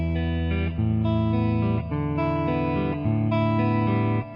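An acoustic guitar plays a steady fingerpicked pattern, thumb alternating bass strings under single notes on the top three strings, chords shifting every second or so, with no voices.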